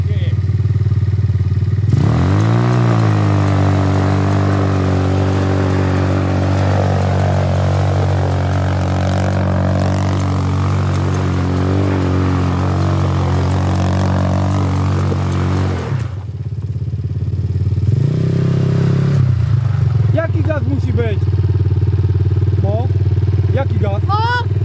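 A Chinese motorcycle engine is revved hard, a loud sustained roar climbing and holding for over ten seconds, dropping off, then rising again, with people shouting and talking over it.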